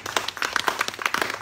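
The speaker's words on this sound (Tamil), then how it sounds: "ஜீவா வாங்க ஜீவா ஒரு கைத்தட்டு கொடுங்க" Light clapping from a press-meet audience welcoming a newcomer, brief and scattered, a handful of quick claps close by without any voices.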